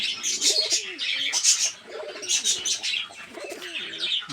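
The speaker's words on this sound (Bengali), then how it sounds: "আর এই জোড়া হলো লাল কবুতর" A pair of red pigeons kept in a cage coo in soft, repeated rolling phrases at close range, with light chirps from other caged birds around them.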